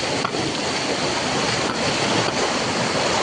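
Loud, constant roar of rushing water at Zenith waterfall in Khopoli, heard from knee-deep water near the falls, with dense broadband noise and a little wind buffeting the microphone.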